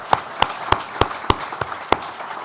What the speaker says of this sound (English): if we could give the governor and the Assemblywoman another round of applause